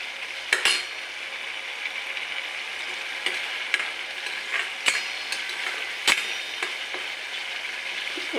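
Coconut roasting in oil in a pan for a Maharashtrian katachi amti gives a steady sizzle, with intermittent scrapes and taps of the stirring spoon.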